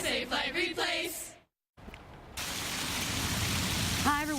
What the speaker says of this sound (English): A deck showing you the rain and the hail coming down.